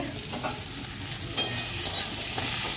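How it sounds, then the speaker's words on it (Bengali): Kakrol (spiny gourd) slowly frying in a pan makes a steady, moderate sizzle with a couple of brief, sharper clinks of stirring, close and without talk. "আস্তে আস্তে ডেকে ডেকে ভাজছি। কাঁকরোল ভাজতে কিন্তু অনেকটাই সময় লাগে।"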